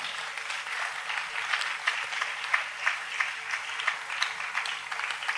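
Church congregation applauding the Lord together, a steady wash of many hands clapping with rhythmic swells, fairly close and continuous.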